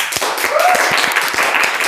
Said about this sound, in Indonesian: boleh dong tepuk tangan buat Kakaknya